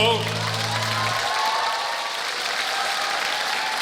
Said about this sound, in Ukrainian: ви так гарно аплодуєте